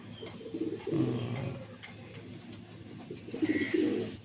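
A male Kata Gardan Kalshira pigeon coos in low, rolling bursts, close by, with a pause in the middle before a second run of cooing.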